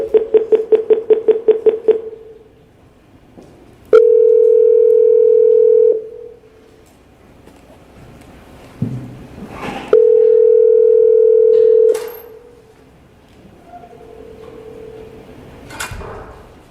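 Telephone line tones sound while a caller is dialed into a city council meeting: a quick run of rapid beeps, then two sustained steady tones separated by quiet, with faint room noise between.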